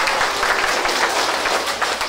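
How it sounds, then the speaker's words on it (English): A group of children applauding together in a classroom, steady dense clapping that stays loud and close for the whole stretch with no voices rising above it. "give yourselves a round of applause because you're doing such a great job."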